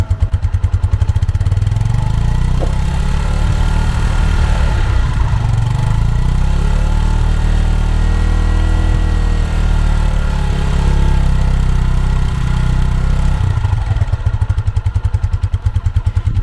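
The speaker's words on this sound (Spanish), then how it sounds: "vamos a acelerar la motocicleta a medias revoluciones para que escuchemos el cambio de sonido" An Italika 150Z motorcycle engine is held at medium revs, a steady, smooth mid-pitched drone that rises and falls gently, alone and close.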